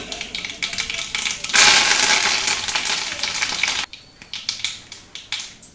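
Mustard seeds splutter in hot oil in a kadai, crackling in a dense close burst that then thins to scattered sharp pops.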